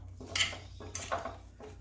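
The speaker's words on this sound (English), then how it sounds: "pour the butter mixture over that and really stir it up well to coat all of the potatoes" A spoon scrapes and clinks against a dish while butter mixture is stirred through halved baby potatoes, a few quick metallic strokes in an uneven rhythm, close and fairly quiet.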